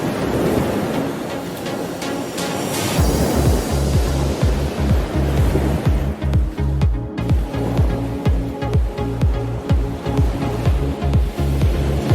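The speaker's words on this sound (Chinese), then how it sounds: "垦丁白沙湾的风浪好大哦，非常适合在这边冲浪。" Big waves at Baishawan beach in Kenting: a loud, close roar of surf that turns into heavy rhythmic pounding after a few seconds, with no voices.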